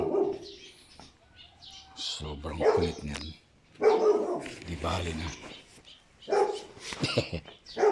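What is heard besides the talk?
dog barking because it doesn't want to be left behind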